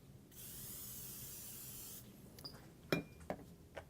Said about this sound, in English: We're going to spray the bottom of our pan.